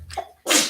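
A single sharp sneeze bursts out after a brief quiet inhale, loud and close, with a soft low hum beneath.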